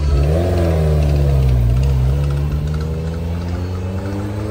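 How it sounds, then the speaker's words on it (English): A vintage Ferrari engine revs at a street rod and custom car cruise night. The exhaust is loud and continuous, with pitch rising and falling through the rev, and no voices are heard. "Love the vintage Ferrari sounds."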